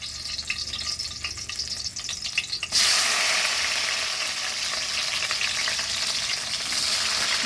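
Garlic frying for bagoong gives a steady hiss that jumps to a loud, continuous sizzle halfway through as it hits the hot pan, then keeps crackling close and even.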